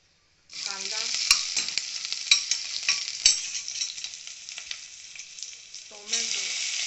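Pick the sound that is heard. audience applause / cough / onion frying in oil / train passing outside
onion frying in oil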